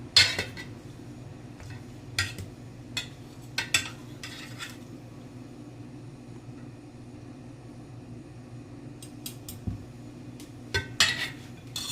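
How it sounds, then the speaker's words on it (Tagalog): Steamed chicken being set onto a plate in a home kitchen, with sharp clinks of utensils and dishware in scattered bursts over a low steady background hum. "So, ilalagay na natin sa plate."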